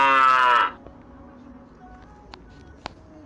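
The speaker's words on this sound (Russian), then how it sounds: "Молодец. Корова." A cow gives one loud, drawn-out moo lasting about half a second, then fades into quiet with a few soft clicks.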